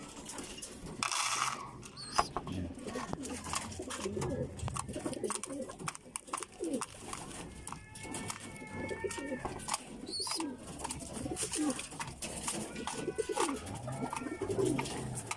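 Pigeons coo softly in a loft, with repeated throaty calls scattered over quiet clicks and rattles of cage or feeder mechanisms.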